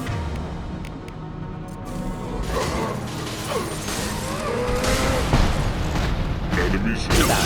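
Weapon fire in the video game Mass Effect 2, a dense run of booming shots and mechanical clatter. It is loud and nearly continuous, with layered game effects and no clear gaps.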